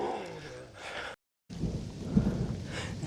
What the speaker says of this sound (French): Ah là, les orages, monsieur.